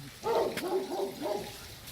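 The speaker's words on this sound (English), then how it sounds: "You see the neighbors have some dogs" Dogs at a neighboring house bark and yip in a short run of calls, moderately loud and somewhat distant, without speech over them.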